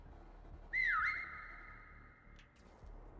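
A single whistle taunt in the Prop Hunt video game rises, dips, then holds a steady high tone for about a second and a half before fading, fairly clear over quiet game ambience.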